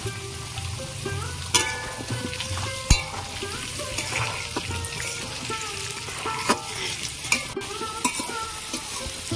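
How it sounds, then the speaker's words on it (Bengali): Potato pieces frying in hot oil with a pinch of turmeric in a kadai, a constant crackling sizzle punctuated by repeated clinks and scrapes of a stirring spoon, close up with no talking. "আলুগুলো ভেজে নেব"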